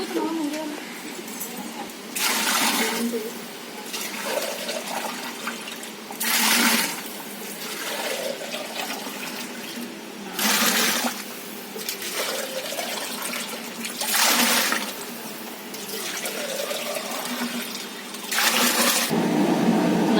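Water is poured into a cooking pot for chicken biryani, six measures for three measures of rice. It comes in about five separate splashing pours of a few seconds each, with quieter pauses between them.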